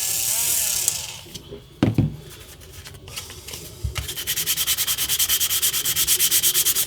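A Wolverine cosplay prop claw blade is sanded by hand to round over its back edge. Scattered scrapes and handling noise come first, then a fast, even run of close, loud rasping strokes. A brief voice is heard near the start.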